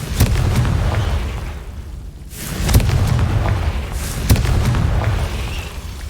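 A Confringo fire spell goes off in Hogwarts Legacy, a few loud booming blasts spaced a second or two apart over rumbling game ambience, with no talk.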